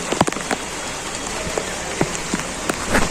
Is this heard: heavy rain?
yes